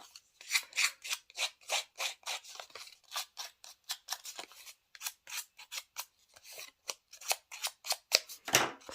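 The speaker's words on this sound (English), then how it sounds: "I'm just going to tear it a little bit on the top and maybe distress the bottom a little bit" A strip of cardstock paper being torn and distressed at the edges for a handmade card, heard as a quick series of sharp, close rasping tears and scuffs in an irregular rhythm.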